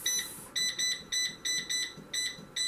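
An air fryer set to 400 degrees with a roughly three-minute timer beeps in a steady run of short, high electronic tones as it begins to preheat, each beep closely following the last over a quiet background.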